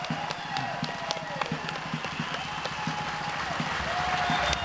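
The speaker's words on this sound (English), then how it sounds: "give a rousing Arkansas applause to our sons and daughters in the military" Crowd at an Arkansas Tea Party rally applauds for members of the military, a sustained, moderately loud wash of many hands clapping with scattered sharper claps and faint crowd noise beneath.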